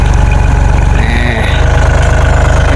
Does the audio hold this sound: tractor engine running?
yes